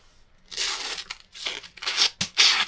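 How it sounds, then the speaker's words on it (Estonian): A cheap five-euro knife saws and tears through paper in several rough, rasping bursts, heard close and loud with short pauses between strokes. "Paberit võiks ka lõigata ju."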